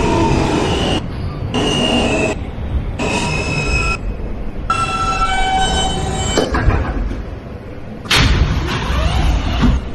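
A New York subway L train running between Rockaway Parkway and Broadway Junction, loud and close, with a steady rumble of wheels on rails broken by bursts of squealing and clattering, and no talk.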